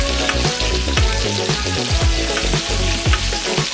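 Ribeye steaks searing in a hot pan give a steady, loud sizzle and crackle, with occasional scraping and knocks of handling running under the frying, no talk.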